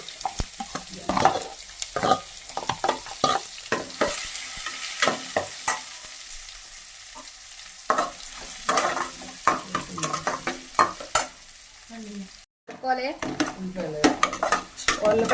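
Onions fry in a pan with green chillies while a utensil stirs and scrapes them, giving steady sizzling under repeated clanks of metal against the pan. No one speaks.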